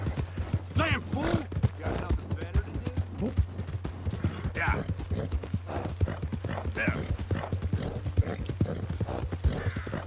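Steady clip-clopping hoofbeats from a slow horse in Red Dead Redemption 2, repeating in a quick rhythm throughout, layered over game sounds and occasional creaks.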